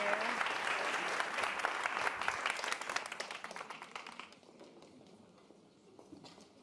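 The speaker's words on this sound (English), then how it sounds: "let's give a round of applause to Bululu" Crowd applause and clapping for the dancer Bululu at a salsa event, loud and dense at first, then thinning and fading to scattered claps over the last couple of seconds.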